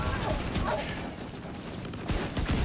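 Gunfire rattles in The Division during a player-versus-environment session, a dense, continuous fusillade of shots and mechanical clatter that stays loud throughout, with a voice speaking over it.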